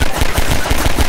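Rapid automatic gunfire from the Half-Life 2 canal level, a loud, dense burst of repeated shots with a rough, booming low end, continuous across the whole moment with no talking.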